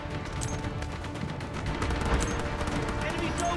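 Rapid gunfire and booming artillery fill a battle in the video game Delta Force: Mobile, with dense overlapping bursts and crackling shots that never let up.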